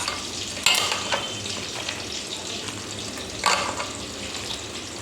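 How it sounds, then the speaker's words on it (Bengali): Potatoes frying in a pan in a home kitchen, a steady close sizzle with a couple of sharper stirring scrapes rising above it, and no talk. "আর এদিকে আমার আলু ভাজা চলছে"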